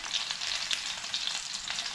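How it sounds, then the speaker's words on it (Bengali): Katla fish pieces frying in oil, a bright, even hiss of sizzling with small crackling pops, continuous and close, with no voices. "আর 2 পিস আছে, আমি ওটাকে ভাজা করে তুলে নিই"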